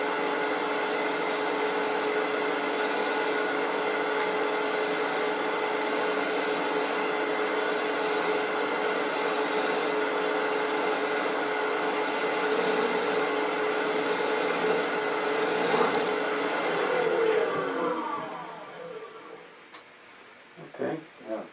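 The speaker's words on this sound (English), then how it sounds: "Switch to a shear scraper, clean up some of the tool marks." A shear scraper smooths a wooden bowl with a bark rim spinning on a lathe, giving a steady whirring, scraping drone that holds throughout and fades near the end as the lathe slows.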